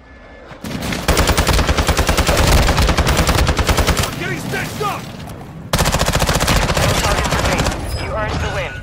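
A precision airstrike lands in Call of Duty Modern Warfare II Resurgence duos, heard as loud, dense, rapid bursts of gunfire and explosive blasts in two long barrages, with game sounds in between.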